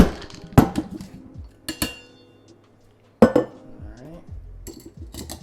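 Ice clinks and rattles against glass as a cold brew mocktail is stirred with a utensil, giving sharp close clinks in several bursts separated by brief quiet gaps.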